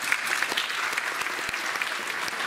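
Steady dense applause from a large audience at a charity Christmas concert, continuous clapping filling the hall without a break.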